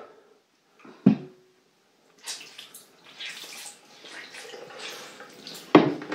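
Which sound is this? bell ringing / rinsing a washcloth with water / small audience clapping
rinsing a washcloth with water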